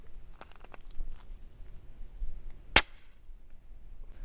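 A single sharp, muffled gunshot from a suppressed 8.6 Blackout bolt-action rifle firing a 225-grain round cracks once amid quiet handling noises, a short suppressed pop rather than a loud boom.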